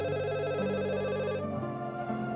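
Telephone bell rings continuously and steadily in an indoor domestic scene from an Indonesian TV drama, loud and alone with no talk over it.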